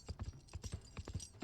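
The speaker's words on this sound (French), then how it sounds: "Rek, Virae et les 30 franchirent à cheval la grande herse de la porte sous la forteresse de Delnoch" Horses' hooves clip-clopping as riders pass through a fortress gate, a quick irregular run of soft, muffled hoof strikes, faint and alone.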